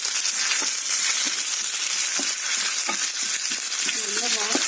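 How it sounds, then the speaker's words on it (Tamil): Cashews and curry leaves frying in a pan for varagu rice pongal, giving a steady close sizzle broken by occasional clicks and stirring taps, with no talking. "அடுத்து இதில் முந்திரி பருப்பு சேர்க்குறேன் முந்திரி பருப்பு அடுத்து வந்து கருவேப்பிலை சேர்க்குறேன்"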